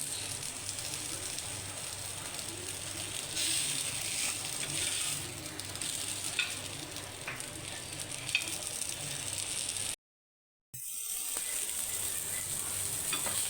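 Steady, dense sizzle of Kolhapuri-style fish pieces frying in a pan, close and even, broken by a brief moment of silence near the end.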